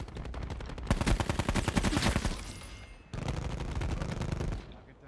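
Swat RFT assault rifle fire in Black Ops 4, two sustained rapid automatic bursts with a brief gap between them, punchy and close.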